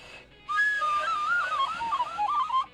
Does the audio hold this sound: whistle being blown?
yes